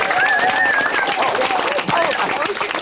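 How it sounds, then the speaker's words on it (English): A studio audience applauds with dense, steady clapping and some cheering. Voices are audible through it. "Let's give them a big round of applause."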